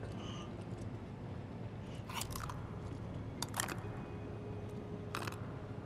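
A character in Final Fantasy VII Remake chews Achao beans, giving several sharp crunchy bites spaced a second or so apart over a steady low game ambience.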